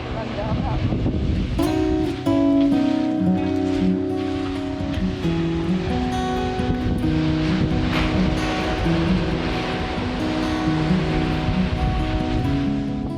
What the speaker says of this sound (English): hear the perpetual roll and crash of the waves